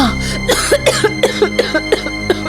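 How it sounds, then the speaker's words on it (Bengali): A woman coughs in a rapid, harsh fit of about eight to ten bursts, close and loud, with no talking. "কাশিটা কিছুতেই কমছে না"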